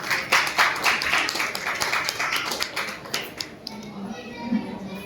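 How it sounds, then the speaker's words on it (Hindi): A satsang audience at a gaushala claps for a singer, a burst of brisk applause that fades after a few seconds, leaving faint room noise and a few murmurs. "तो गीतू जी के लिए आप सबके तरफ से जोरदार ताली"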